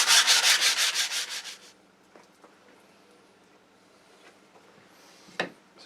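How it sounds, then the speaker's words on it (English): Sandpaper rubbed by hand over wood to clean up a biscuit joint, heard as about a dozen quick, loud back-and-forth scratching strokes that stop after a couple of seconds, followed by faint taps and a single sharp knock. "I'm just going to rub a little bit of sandpaper over this, just to take any spurs off"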